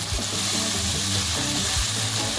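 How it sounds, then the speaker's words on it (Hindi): Chicken macaroni sauce with chili sauce and vinegar browns in a pan over a low flame, giving a soft, constant sizzle with a couple of dull stirring thumps. "थोड़ा हम इसको ब्राउन करेंगे, भूनेंगे थोड़ा इसको"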